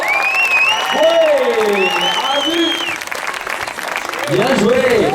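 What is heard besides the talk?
audience applause encouraging a climber at a bouldering competition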